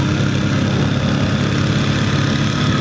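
A Ducati Monster 1100 motorcycle engine runs at night, a steady, loud, close low throb with no change in pitch and no voices.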